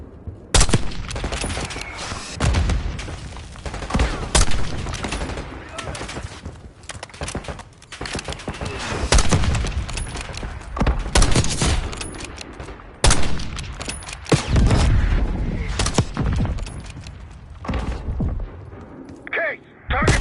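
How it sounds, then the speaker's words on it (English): Bursts of gunfire and heavy mortar blasts crash repeatedly through a Black Ops 6 combat scene, loud irregular volleys with sharp impacts, mixed with shouted in-game voices. "Got mortar fire."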